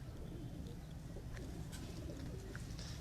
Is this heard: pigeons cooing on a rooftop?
yes